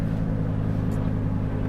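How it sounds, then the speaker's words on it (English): 2018 Audi R8 V10 Plus idling at low revs, a deep steady burbling engine rumble heard from inside the car, loud and continuous for the whole moment. "at the lower revs, it gives you lots and lots of burbly noises."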